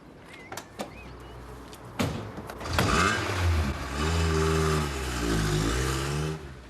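A car in a 1988 UK crime reconstruction: a few clicks and door thuds, then the engine starts and revs, its steady hum rising and falling as the car is driven off, with no voices.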